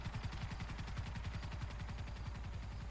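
Rapid, steady automatic gunfire in Grand Theft Auto V, a fast regular burst of shots repeating for the whole stretch at an even loudness with no talk over it.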